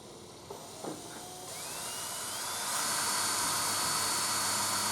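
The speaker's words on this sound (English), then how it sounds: "Just take your time with the drill. You notice I've got it going at full speed." An electric drill boring into copper whines up steadily in pitch to a loud, high, continuous scream at full speed, close by.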